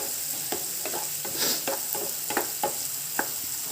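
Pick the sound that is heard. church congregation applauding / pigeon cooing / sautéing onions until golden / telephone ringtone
sautéing onions until golden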